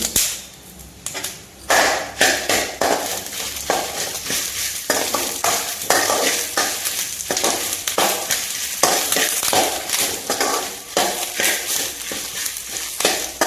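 Dried red chillies, fenugreek seeds and curry leaves frying in oil for a mango pickle, a loud close sizzle broken by rapid rhythmic scraping and stirring against the pan, with no voices.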